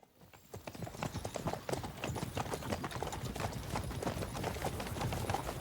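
Horse hooves clip-clopping in Kingdom Come: Deliverance II, a steady, close walking rhythm of hoofbeats running throughout at moderate loudness.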